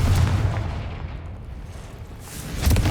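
Fire-spell blasts from the Hogwarts Legacy video game: a loud booming burst at the start, a quieter rumbling stretch in the middle, then another heavy blast near the end, with no talk.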